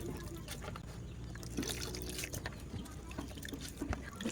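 Grated coconut squeezed by hand, with fresh coconut milk trickling and dripping out into a container; a soft, steady wet dribble close by, low and continuous with small splashy bursts, no talking.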